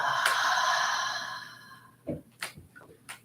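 Breath let out during a qigong shoulder-release exercise, a long soft airy exhale that fades over about two seconds, then a few short quiet breaths and sniffs, close and alone.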